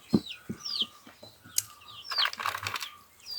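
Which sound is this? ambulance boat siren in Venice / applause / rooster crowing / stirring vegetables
rooster crowing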